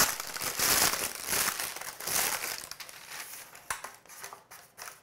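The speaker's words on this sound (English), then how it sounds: "take a piece of parchment paper and crumple it up" A sheet of parchment paper is crumpled up by hand close by, loud crackling crinkles in bursts that grow sparser and quieter toward the end.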